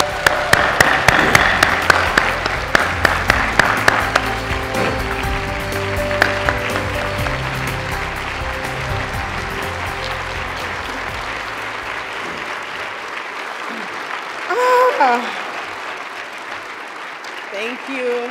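An audience bursts into applause to welcome a speaker onto the stage at a staffing association awards event, loud sustained clapping that gradually thins and fades, with voices and cheers rising near the end.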